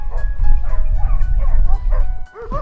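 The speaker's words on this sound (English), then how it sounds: "hunters like Rafael Salerno use beagle dogs to track wild boars." Beagles bark and yip excitedly in quick repeated bursts, fairly close, during a wild boar hunt in rural Brazil, with a brief lull near the end before the barking resumes.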